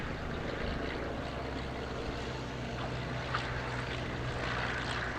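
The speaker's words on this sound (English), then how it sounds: "Got a sports plane landing right now." A light sports plane lands at Lelystad Airport, its propeller engine a steady, broad drone heard at a distance with constant wind and outdoor rumble.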